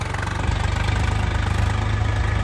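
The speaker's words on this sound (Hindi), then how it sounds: "लो का चौथा डाल रखा है अपन ने, और गहराई भी अच्छी खासी ले रखी है ट्रैक्टर ने। ये छोड़ दी मैंने क्लच।" A tractor engine runs under load in low fourth gear while plowing deep in a field, giving a loud, steady, close diesel throb with a fast even pulse and no talk.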